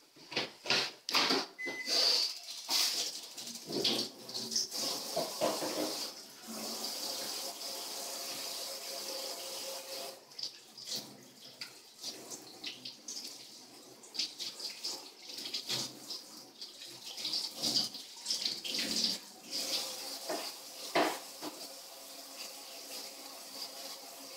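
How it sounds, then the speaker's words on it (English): Running tap water pours steadily over hands being washed at a kitchen sink during chocolate tart preparation, a broad continuous gush with splashing variations throughout, fairly close. "Next, wash your hands."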